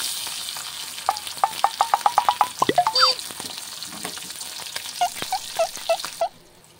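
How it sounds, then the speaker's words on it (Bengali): Shrimp frying in oil in a kadai, a soft sizzle under a quick series of metallic scraping and stirring taps, then a few slower scrapes before the sound stops abruptly. "চিংড়ি মাছটা আমি ভেজে নেব।"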